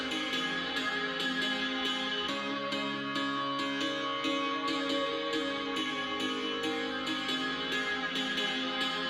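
Sustained piano chords washed in reverb, with a slow sweeping phaser effect giving a swirling, pulsing shimmer; steady and moderately loud, no voices.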